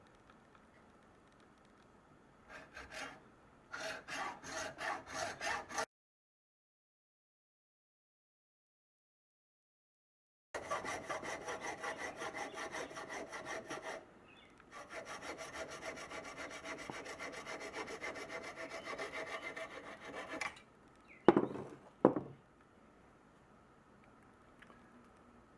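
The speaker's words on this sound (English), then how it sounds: "for that, we're just going to use a hacksaw." A hacksaw cuts through deer antler in rhythmic back-and-forth strokes, close and fairly quiet, in several bursts separated by pauses, including a long silent gap, with a few sharper knocks near the end.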